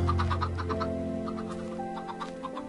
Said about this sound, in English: And they're all baby chickens,